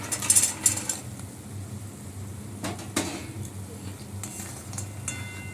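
Lentil dumplings (bori) dropped into a frying vegetable curry, with a soft ongoing sizzle, a few clinks and knocks of utensils, and faint stirring.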